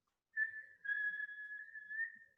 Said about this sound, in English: If I whistle, you'll see that.